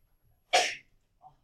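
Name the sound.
sneeze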